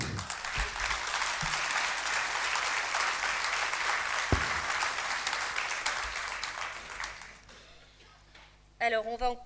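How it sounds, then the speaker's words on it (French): An audience applauds steadily after a presentation, a dense round of clapping that thins out and fades near the end, followed by a brief burst of voice. "Je pense qu'on peut l'applaudir"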